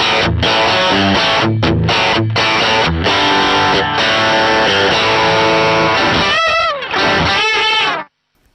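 Loud overdriven electric guitar chords through a Soul Food overdrive pedal, strummed in choppy bursts, then bending, wavering notes before the sound stops suddenly.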